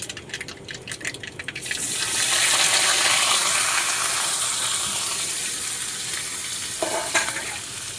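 Water lilies hit hot mustard oil in a pan and burst into a loud, steady sizzle that stays strong and fills the space, after a brief stirring rattle at the start.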